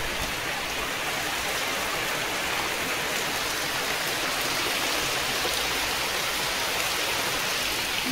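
Heavy rain pours down outside a closed window, a dense, steady roar of rainfall that stays loud and unbroken throughout, with no voices.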